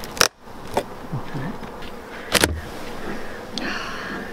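Steady insect buzzing from many honey bees at an opened hive fills the clip, with a few sharp knocks and clatters over the drone.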